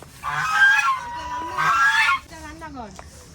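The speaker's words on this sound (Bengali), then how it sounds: "এই যে রাজহাঁস আমাদের দেখেই চেঁচামেচি শুরু করে দিয়েছে" Domestic geese at a village house honk loudly and nearby in two long harsh bursts, followed by shorter honks and cackles as the flock keeps calling.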